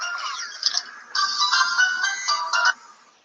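A phone rings with an incoming call during an SSH networking lab: bright electronic ringtone bursts in a repeating pattern, close and clear, with no talking over it.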